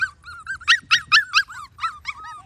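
A Schnauzer puppy that hit her mouth on plastic while falling whimpers in a quick run of high, whiny yelps. The yelps are close and clear, loudest in the middle and then trailing off.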